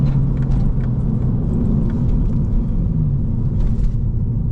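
A steady, loud low rumble fills the cabin of a Lexus IS300 fitted with new suspension as it drives along, with a faint whir and no talking.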